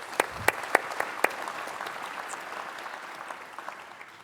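Conference audience applause welcoming panel speakers at a greener-infrastructure supply chain event, opening with a few sharp, distinct claps that blend into a softer, scattered patter of many hands fading over about four seconds.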